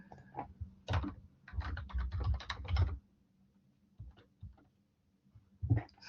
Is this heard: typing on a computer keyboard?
yes